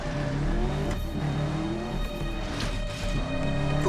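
A car engine in the shooter Medal of Honor Warfighter, revving steadily and pulling hard with a droning, throaty tone, the pitch shifting slightly as it drives on at close range.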